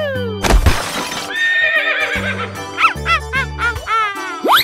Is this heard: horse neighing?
yes